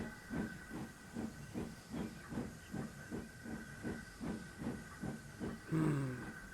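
A steam engine chuffs rhythmically and steadily under a constant steam hiss, then gives a brief whistle near the end.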